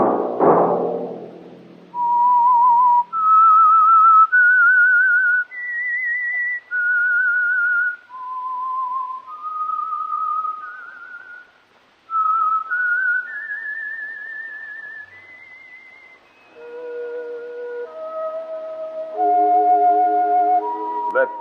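A person whistles a slow, clear melody of sustained notes, alone and close, with brief pauses between phrases and a richer, layered passage near the end.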